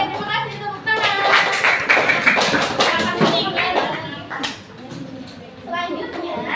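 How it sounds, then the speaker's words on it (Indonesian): Children in a classroom clap in short bursts alongside a teacher's voice and children's chatter, with irregular taps and thuds and a pause before clapping resumes near the end. "terima kasih tepuk tangan"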